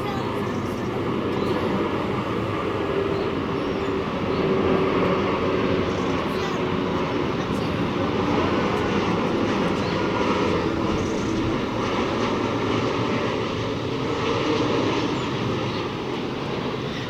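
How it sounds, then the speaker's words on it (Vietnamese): An Air Hong Kong Airbus A330F cargo plane lands at Tan Son Nhat airport, giving a steady, broad roar that holds at an even loudness for the whole stretch. "chiếc máy bay này sẽ hạ cánh ở sân bay Tân Sơn Nhất"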